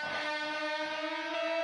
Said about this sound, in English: If you want to hear the delay on its own